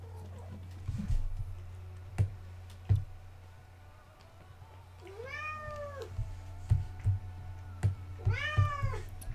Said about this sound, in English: My cat's probably gonna be crying